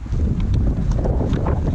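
Wind gusts across a microphone outdoors in snowy backcountry during a ski tour, a loud, steady low rumble filling the whole stretch with no talk over it.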